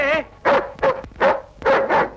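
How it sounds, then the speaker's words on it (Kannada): Several loud, close dog barks and whimpering yips in an outdoor scene from an action movie, coming in quick irregular bursts. "ಇದು ಬೊಗಳನಾಯ ಕಚ್ಚು ನಾಯ."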